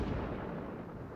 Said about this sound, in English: Then came the thunders of the explosion like a lightning stroke